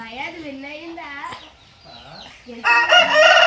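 A rooster that has won a cockfight crows nearby in a long, wavering cock-a-doodle-doo, then a louder, harsher burst of squawking follows near the end.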